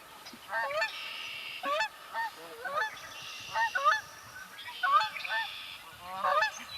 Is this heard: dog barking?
no